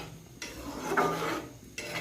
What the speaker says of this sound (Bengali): এবার আমি কুচানো কাঁচা লঙ্কাগুলি দিয়ে দেবো, দিয়ে আর একটু নাড়ব